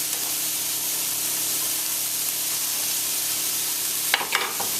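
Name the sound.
cabbage sizzling while frying in a pan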